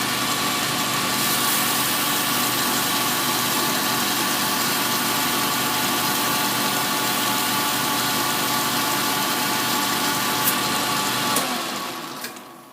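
A machine runs steadily while polishing a carburettor butterfly shaft, a loud, even motor drone with a bright whine that holds for about twelve seconds before winding down at the end.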